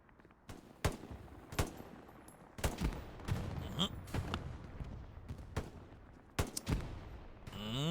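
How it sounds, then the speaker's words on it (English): Gunfire in the World War II shooter game Hell Let Loose, with loud close rifle shots cracking at irregular intervals over a busy, noisy battlefield backdrop, and someone talks between the bursts. "Now shots up there."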